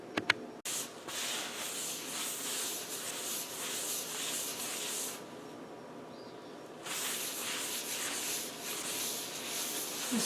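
Steady abrasive scrubbing as excess rust powder is rubbed off a cookstove surface, a continuous dry hiss with a brief pause midway, moderately close and without talk.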